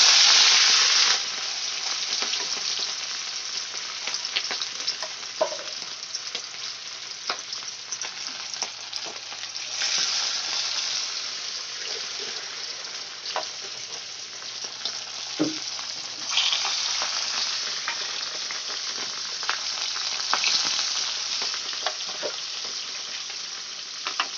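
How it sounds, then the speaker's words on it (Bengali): Pieces of katla fish fry in hot oil in a wok, giving a loud, steady sizzle that runs unbroken, with occasional bursts and crackles as pieces are moved, and no voices. "এক এক করে আমি মাছগুলো কড়াইতে দিয়ে দেব"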